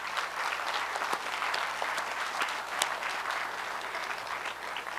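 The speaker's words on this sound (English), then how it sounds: "Give them a round of applause." Audience at a school Veterans Day program applauding middle school children, a steady, even roar of many hands clapping throughout, moderately loud with no voices standing out.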